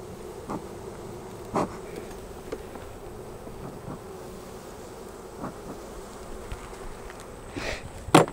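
Robber bees buzz and dart around a beehive, heard as a low, continuous insect hum with brief louder buzzes as individual bees pass close, and no talking.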